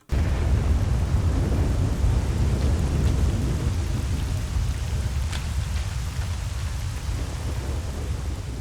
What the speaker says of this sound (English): this rain is really loud